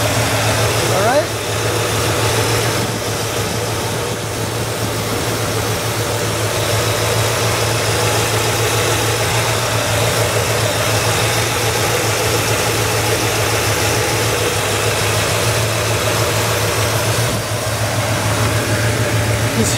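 Engine of a 1967 Cadillac Eldorado idling, a steady, smooth low rumble held close and constant throughout with no change in pace.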